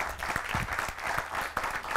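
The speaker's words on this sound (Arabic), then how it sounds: "تصفيق له" An audience claps and applauds for a contestant on a stage game show. Steady applause runs for about two seconds, close and fairly loud, with a few louder claps standing out.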